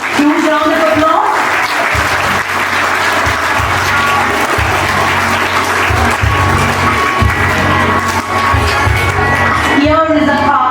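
A school audience at a Class X special assembly for a Carmel Day celebration gives loud, sustained applause with a few whoops, while a voice speaks at the start and near the end.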